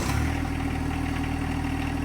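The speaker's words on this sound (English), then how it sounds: "Turn your tractor on." John Deere 2025R compact tractor engine idling: a steady, close diesel rumble with an even low hum and no voices, just after it has started.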